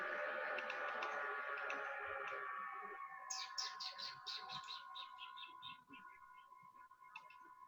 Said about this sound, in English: The strangest birds I've ever heard.